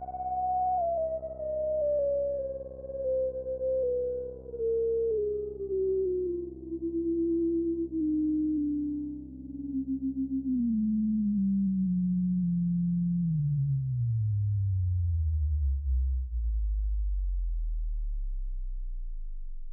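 A smooth UDO Super 6 synthesizer tone glides steadily downward over many seconds, starting mid-pitch and sinking into a deep, rumbling bass drone at the end.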